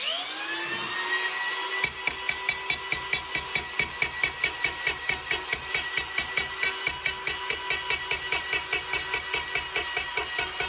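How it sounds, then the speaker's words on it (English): Electric texturing tool driving a ball into a wooden drawer front, a steady high motor whine that turns into a rapid, regular, close hammering of firm taps over the tool's drone. "basically tapping it pretty firmly on the wood here in a random pattern"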